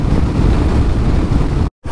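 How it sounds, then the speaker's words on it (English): Loud, gusty wind battering the microphone in a constant roar while riding a Kawasaki KLR650 motorcycle near Exmouth, Western Australia, cutting out briefly just before the end. "Far out, it's windy."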